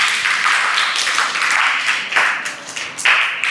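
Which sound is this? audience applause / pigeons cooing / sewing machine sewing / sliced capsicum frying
audience applause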